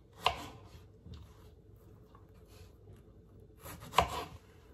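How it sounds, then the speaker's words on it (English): Two quiet knife cuts on a chopping board trimming the tops off strawberries, a couple of seconds apart, with faint rustling between them. "So I've just got to trim the tops off the strawberries."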